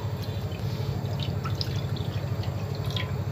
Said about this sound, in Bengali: এখানে আমি দিয়ে দিচ্ছি 2 গ্লাস পরিমাণ পানি